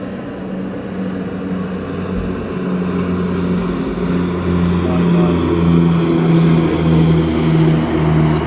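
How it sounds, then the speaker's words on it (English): A propeller aircraft climbs out from East Midlands Airport at sunrise, its engines giving a loud, sustained droning hum with pulsing propeller tones that swell slightly as it passes. "See the props on this aircraft here as it heads up into the sunrise of East Midlands."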